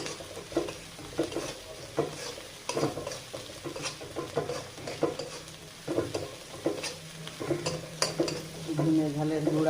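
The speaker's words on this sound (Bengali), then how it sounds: "মশলাটা ভালো করে ভেজে নিচ্ছে।" Onion, green chili, garlic and ground spices fry and sizzle in a pan for a tomato and tengra fish curry, with a steady bubbling fry under repeated close scraping strokes of a spoon stirring the mixture.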